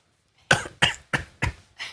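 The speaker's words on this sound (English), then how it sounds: "And you're coughing as well?" Five sharp coughs in quick succession, close and loud, each a short rough burst followed by a brief pause.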